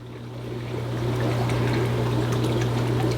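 Liquid poured from a kitchen cup into an aquarium for imported guppies, a steady trickling pour that swells and then holds, close, over a constant low hum, with no talk.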